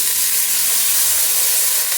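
Water poured into a hot pan of Bengali jackfruit curry with cashews and tomato sends up a loud, steady steam hiss and sizzle that fills the whole short stretch with no talk.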